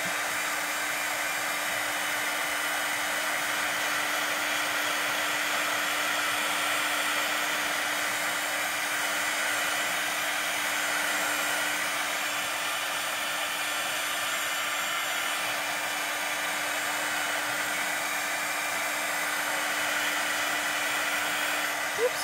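Embossing heat tool blowing hot air over embossing powder on a card, a loud, steady whooshing hum with a constant tonal whine that runs unbroken throughout.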